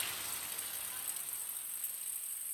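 Rain falls steadily in a village, making a soft, continuous hiss. It is faint and distant, with no clear individual drops standing out.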